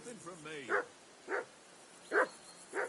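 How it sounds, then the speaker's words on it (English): Four loud, separate barks from a dog in Kingdom Come: Deliverance II ring out at roughly half-second gaps, preceded by a brief wavering voice-like sound. "I assume you can hear that damn dog of yours barking."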